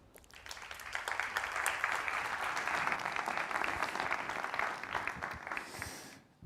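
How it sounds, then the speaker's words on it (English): Audience applause at a semiconductor industry forum in Valencia, a steady, dense round of clapping from a sizeable crowd that holds evenly for about six seconds before tapering off. "A round of applause."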